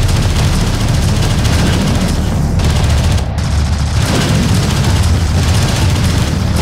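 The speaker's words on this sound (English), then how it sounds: "Sensors post is under fire." Dense, loud battle gunfire from Homeworld: Deserts of Kharak, a sustained roar of rapid shots and booms that barely lets up, with a brief dip midway.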